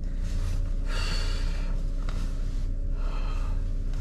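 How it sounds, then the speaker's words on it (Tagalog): A person pants heavily and out of breath while walking home outdoors in the snow, with rapid breaths and gasps close to the mic over a steady low background rumble. "Medyo hinihingal ako."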